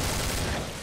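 A catapult machine gun in Killing Floor lets off a loud, dense burst of rapid fire lasting under a second, with no voices.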